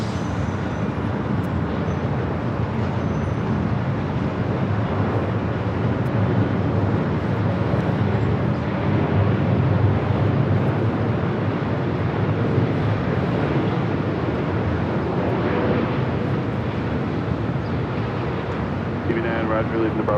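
A Boeing 747-8 from Seoul landing at LAX, heard as a steady, loud broadband jet roar that holds evenly throughout, with faint talk underneath.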